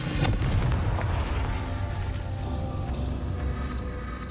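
A Confringo fire spell blasting in Hogwarts Legacy on PS5, a loud deep booming explosion with a rumbling, crackling tail that rolls on and slowly fades over several seconds.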